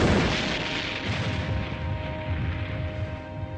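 A World War I artillery bombardment from about 1,200 guns on a narrow front, heard as a dense, continuous rumble of distant booms with no voices.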